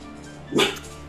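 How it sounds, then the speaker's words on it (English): A single short, loud dog bark rings out over a steady indoor hum, a lone yelp-like woof lasting a fraction of a second. "my dog is barking in the background"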